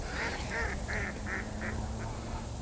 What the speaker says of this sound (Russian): С той стороны утки женятся, наверное.